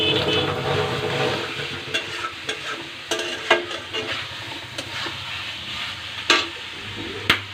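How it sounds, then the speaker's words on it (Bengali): Food being sautéed and stirred in a hot pan gives a continuous sizzle, with scraping and clinking from the stirring spoon at irregular intervals, close and moderately loud, with no talking. "ভালোভাবে কষে নিচ্ছে"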